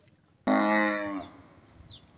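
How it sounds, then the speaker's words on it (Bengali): A Gir cow on a farm lets out a single loud, close moo lasting under a second, then it fades into a quiet background. "গির জাতের গরু দেখা যাচ্ছে ওইখানে"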